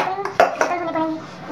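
Pots and dishes clatter in a home kitchen as they are handled and set down while being washed, with a few sharp clinks over a steady background of running activity.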